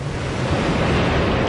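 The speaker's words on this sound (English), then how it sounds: "We have main engine start." Space shuttle Discovery's main engines ignite at the STS-133 launch, a steady, loud broadband roar rushing like heavy wind and surf, filling the clip from start to finish.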